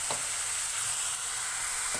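Food sautés in a pan with a dense, even sizzle that runs throughout, broken by a soft utensil knock at the start and another near the end.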